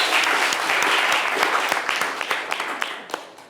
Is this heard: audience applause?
yes